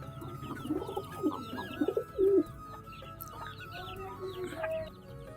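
Pigeons in a pigeon loft give a close, busy run of cooing and clucking calls, loudest around the middle, over a low steady background hum.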